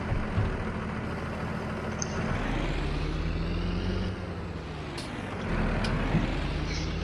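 Fendt 820 tractor engine running, a steady low diesel rumble with a faint whistle that dips briefly and then returns, heard close and alone.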